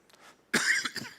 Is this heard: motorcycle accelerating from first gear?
no